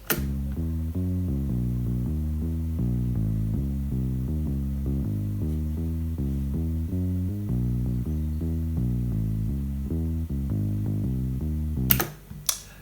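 A busy bass line plays steady, repeating low notes in a quick rhythm for the whole stretch, loud and alone, ending with a few brief clicks.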